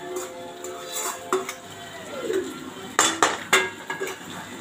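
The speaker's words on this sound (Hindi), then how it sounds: "आटा और आलू को पूरा मिक्स कर लेंगे" Potato and flour being stirred together in a pan, with scraping and clinking of a utensil against the metal, sharper knocks bunching toward the end; close and moderately loud.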